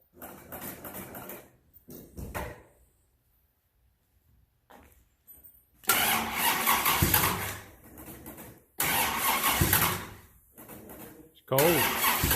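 An old hot rod car engine cranks and fires in near-freezing Ohio cold, loud bursts of engine noise separated by pauses, with people talking in between attempts.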